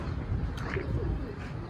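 Pigeons coo softly, with low, murmuring calls under a steady rumble of background noise, the cooing faint and blended into the ambience.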